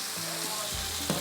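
Whole coriander seeds tipped into hot oil for a tarka while making oriental chicken rice, a steady close sizzle and frying hiss with a few small stirring bumps, no voices.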